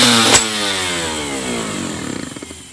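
A Rotax two-stroke go-kart engine of about 28 horsepower buzzes loudly, then its pitch slides down as it winds off, ending in a sputtering, pulsing idle.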